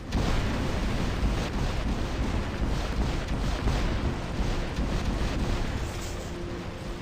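In the War Robots video game, a turret fires nonstop amid explosions, making a loud, dense roar of booms and blasts that never lets up, with no talking over it.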